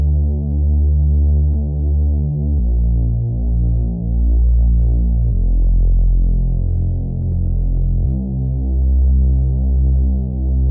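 A synth bass built from a detuned saw wave with distortion and a low pass filter throbs in steady, pulsing notes, shifting pitch every couple of seconds over a continuous heavy low drone, alone and without voices.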